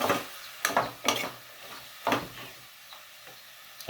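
Sliced squash stirred in a pan with a little water, giving a few sharp scraping clacks of a utensil against the pan spaced about half a second to a second apart over a faint sizzle, with no one talking.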